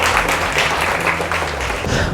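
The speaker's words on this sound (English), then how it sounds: "Big round of applause for her." An audience at a mentalist show claps steadily, a dense, continuous burst of applause from a crowd, close and loud throughout.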